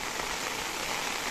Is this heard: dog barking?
no